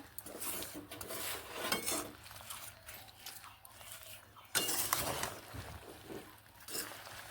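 A spoon or spatula scrapes and clinks in a pan while jujubes are stirred into jaggery over a medium flame, a steady run of rubbing and clattering kitchen noise without talk.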